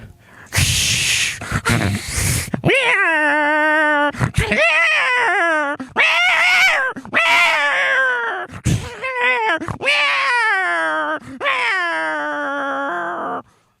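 A person imitates two cats fighting, with hissing bursts followed by a series of long, drawn-out yowls and growls, loud and close.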